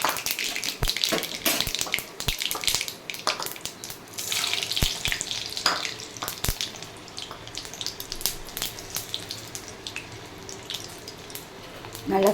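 Chana dal and urad dal fry in hot oil with mustard seeds for a puliyodarai tempering, giving a close, continuous crackling hiss with scattered sharp pops.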